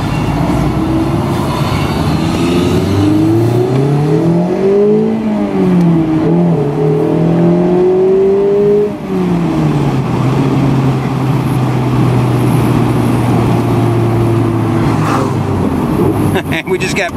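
2017 Mazda MX-5 RF roadster on a test drive, engine pulling up through the revs with a drop at each gear change, then settling to a steady cruising drone; recorded from inside the cabin at fairly high level.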